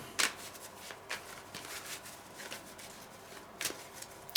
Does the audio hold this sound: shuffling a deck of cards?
yes